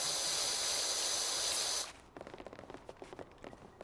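Pressure washer spraying in a video game: a loud, steady broadband hiss for about two seconds that cuts off abruptly, followed by quieter scattered clicks and taps.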